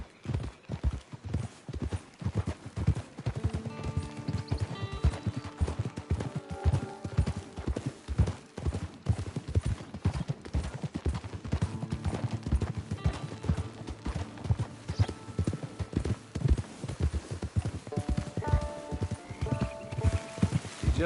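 Horse hooves clip-clop steadily in the Red Dead Redemption II video game, a continuous trotting rhythm of close, distinct beats over ambient game music and an occasional brief whinny.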